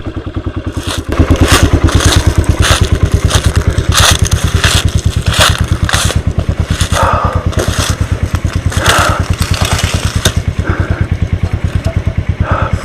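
A Kawasaki Brute Force 300 ATV engine chugs loudly and continuously while riding, with a fast, even thumping pulse. Clattering and rattling bursts sit on top of the engine noise throughout.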